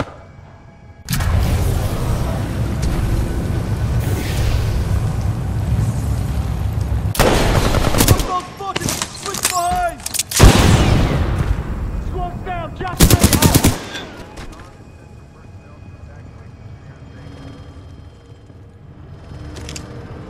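Sustained automatic suppressing fire in the shooter game Titanfall 2, long rattling bursts with sharp gunshot cracks and booms, loud and close, with brief shouted game voices between volleys.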